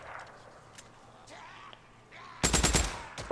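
A burst of rapid sniper gunfire cracks out in the video game Days Gone, loud and clustered near the end after a stretch of quieter game ambience.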